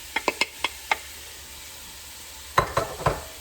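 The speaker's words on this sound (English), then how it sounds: "So I'm going to add the peppers. And you can hear it sizzling up." Diced onion and peppers dropped into hot olive oil in a pan, with sharp clattering knocks and stirring scrapes in two bursts over a quiet, faint sizzle underneath.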